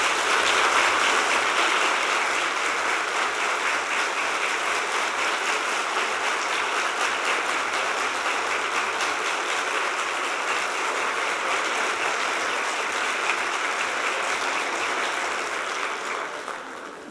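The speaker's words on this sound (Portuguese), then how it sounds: "todas essas palmas são para você" Audience at a spiritualist congress applauding, a broad sustained wash of clapping that stays even and fairly loud for the whole stretch before easing slightly at the end.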